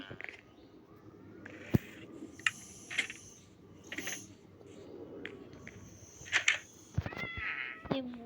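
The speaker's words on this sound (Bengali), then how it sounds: "শুনেছিলাম ক্রিপার ফার্ম বিড়াল লাগে, তাই না আগে দিয়ে বিড়াল টেম করে রেখেছি।" A tamed cat in Minecraft gives several short, clear meows spaced irregularly over a few seconds, close and fairly quiet against a soft game background.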